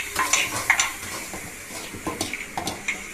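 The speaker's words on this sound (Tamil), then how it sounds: "இப்போ பால் எடுத்து ஊற்றிட்டு லைட்டாக 2 கிளறி வைக்கிறேன்." A spoon stirs milk in a pan of rava laddu mixture, giving a few light scrapes and clinks against the metal with a faint sizzle, soft and close, with no voices.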